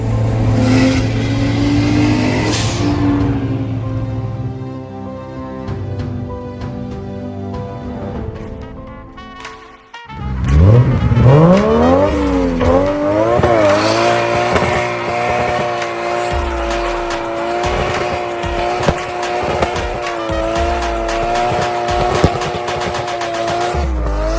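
A widebody Nissan S13 with a 1JZ engine roars and revs hard, with tires squealing over the sustained loud engine note; a sharp rise in power comes partway through.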